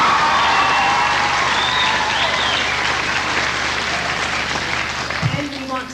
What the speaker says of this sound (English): so we'll give them a clap too